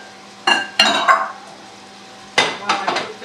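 Pots, pans and cutlery clink and clatter in a home kitchen while cooked meat is lifted out, a few sharp bursts of clatter with short pauses between, close by and fairly loud.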